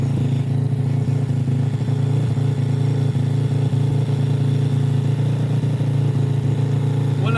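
A custom RFZ motorcycle engine runs steadily during a test run, a loud close-up idle with a low drone and mechanical clatter held throughout, without talk.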